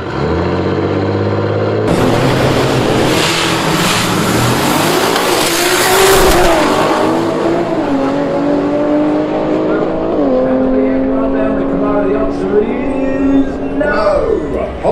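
Audi drag car at the finish line of a doorslammer race, a loud roaring engine pass with rising and falling revs, tire noise and a burst of high-pitched whine, voices heard over it.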